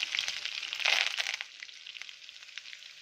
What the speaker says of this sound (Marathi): लसूण, कढीपत्ता, जिरं छान असे तेलावर परतून घ्यायचे, लाल होईपर्यंत